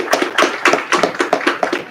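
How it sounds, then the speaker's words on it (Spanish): An audience claps in a steady, even rhythm for about two seconds, the claps close and loud. "Un aplauso, no merece un aplauso"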